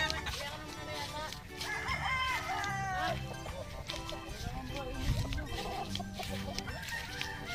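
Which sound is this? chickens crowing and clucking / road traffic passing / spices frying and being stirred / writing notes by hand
chickens crowing and clucking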